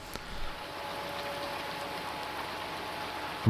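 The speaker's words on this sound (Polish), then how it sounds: "cały czas niestety deszcz pada" Steady rain in Farming Simulator 19 patters continuously, a soft even hiss of drops with a faint tone underneath and a brief thump at the end.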